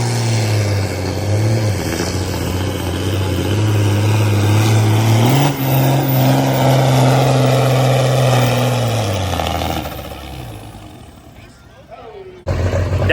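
Pulling tractor engine running after a cold start on ether, a loud deep rumble that rises in pitch midway, holds, then drops away near the end, with a voice talking over it.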